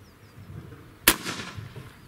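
A single loud, sharp shot from an AEA Element MAX .50 caliber airgun cracks out about halfway through, with a brief decaying tail after the near, powerful report.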